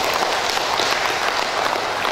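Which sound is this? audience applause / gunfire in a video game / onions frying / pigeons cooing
audience applause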